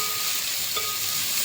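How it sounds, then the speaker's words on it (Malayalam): Thickly sliced small onions sizzle steadily in hot oil in a pan for a masala dosa filling, a close, bright crackle with a light stir in the middle. "ഇനി ഇതിൻ്റെ അകത്തേക്കാണ് നമ്മൾ ഉള്ളി ഇട്ട് കൊടുക്കുന്നത്"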